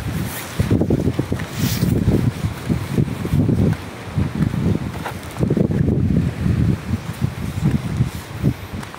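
Strong gusting wind roars outdoors in uneven surges, with rustling and a low rumble, loud and continuous throughout, at 7UP Suksukan, Barangay Bobon, Mati City, Davao Oriental.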